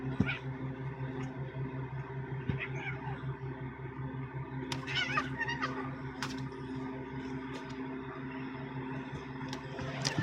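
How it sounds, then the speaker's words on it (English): Two cats squabbling indoors, faint yowls and short caterwauling cries rising over a steady low hum, with scuffling bursts and a few sharp higher squeals near the middle, no talking. "There's the cat fight."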